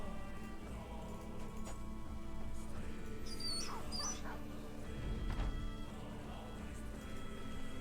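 A wounded dog whimpers in the Battle Brothers Legends video game, with a couple of brief high yelps in the middle over a steady low hum of game music and ambience.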